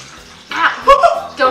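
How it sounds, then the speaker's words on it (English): Hot microwaved water and oil are poured into a metal bowl while making edible play-dough, giving a short, close splashing pour that a voice talks over. "once you have your water and oil microwaved and all hot, you're going to pour it into a bowl."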